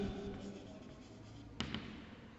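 Writing on a board during a Class XI maths lesson makes faint, soft scratchy strokes over a low room hum, with one sharper tap partway through.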